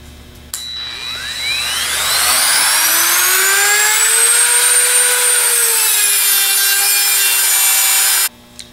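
A Dremel rotary tool cuts through a hardened steel bearing race. Its loud, close, high-pitched whine spins up, holds steady for about six seconds, then stops abruptly.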